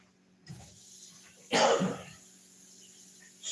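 A man gives a single harsh cough, fairly close and moderately loud, with a softer throat noise just before it in an otherwise quiet room.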